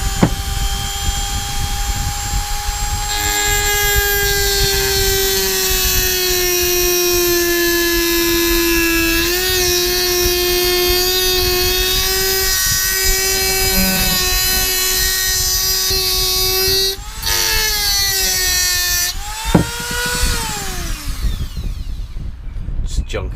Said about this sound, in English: So we got the Dremel tool, we've got a little diamond wheel in there.